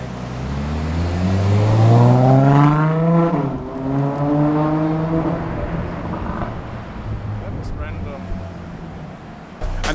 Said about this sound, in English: So you got this guy in a TDF, which can be loud as well, but as you can see, he's driving around in a very respectful kind of way.